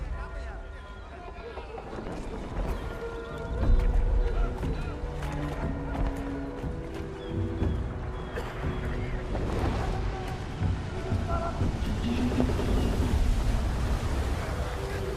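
A sailing ship at sea in New World Aeternum, with steady wind and water wash under game music and voices talking throughout, the ambience holding at a constant moderate level.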